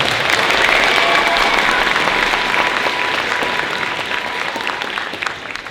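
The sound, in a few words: audience applause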